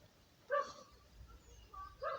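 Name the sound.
dog barking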